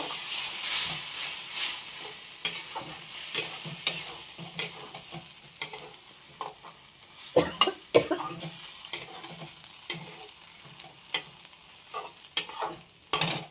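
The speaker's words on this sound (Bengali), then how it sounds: "এবারে মশলা ধোয়া জল দিয়ে একটু ভালো করে নাড়াচাড়া করবো" Spices in a little oil stirred in a pan with spice-rinse water, the sizzle swelling and hissing while a spatula scrapes and knocks in uneven bursts, close up with no talk.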